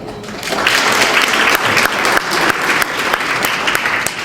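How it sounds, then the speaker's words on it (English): An audience at an education event breaks into loud, close applause that rises quickly and holds as a thick, continuous burst of clapping. "Let's give her some applause as well."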